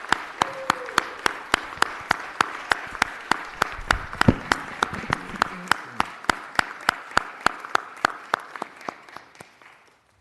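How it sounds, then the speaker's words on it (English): A city council meeting room applauds an honoree with a strong, steady round of clapping that keeps a clear beat before tapering off near the end, with brief murmuring mixed in. "Ladies and gentlemen, a big round of applause for Chief Warrant Officer 4, Vernon J."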